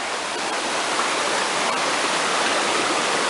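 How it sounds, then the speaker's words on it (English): Creek water rushes along a hiking trail in a steady broadband wash, close and fairly loud, unbroken for the few seconds with no voices over it. "This might be Cherry Creek, I'm not sure."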